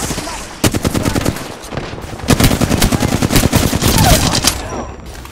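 Rapid automatic gunfire in the video game Apex Legends, loud sustained bursts of shots with brief pauses between volleys, close and dense, with no talking.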